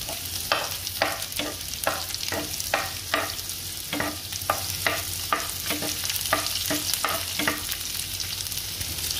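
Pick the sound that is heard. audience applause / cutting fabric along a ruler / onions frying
onions frying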